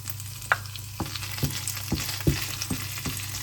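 Garlic sizzling in a frying pan for pasta, a steady crackling fry at close range broken by regular clinks and scrapes of a utensil stirring, roughly every half second.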